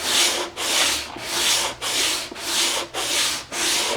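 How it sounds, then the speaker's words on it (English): Sanding block worked by hand across an LS intake manifold, seven steady back-and-forth strokes of rasping abrasive friction, close and loud, with brief pauses between passes and no talking. "I'm gonna start sanding this thing, and I'm gonna keep most of my pressure on the center and just let the block do the work"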